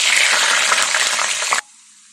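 Loud, close sizzling and crackling of garlic frying in hot oil fills the first second and a half, then cuts off abruptly to near silence.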